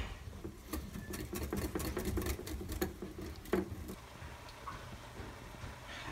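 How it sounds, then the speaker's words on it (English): A mixture of milk and flour gets whisked in a bowl, a steady rapid pattering and clicking of the whisk close up with no talk. "Then you're gonna wanna whisk that together."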